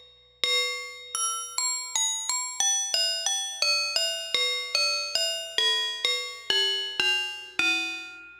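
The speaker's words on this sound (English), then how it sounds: "you can use this to get some kind of plucky bell type sounds" A synthesizer patch using ring modulation between oscillators produces plucky, bell-like metallic tones, a sequence of about fifteen sharp struck notes each decaying quickly, stepping in pitch, clean and close with no voices.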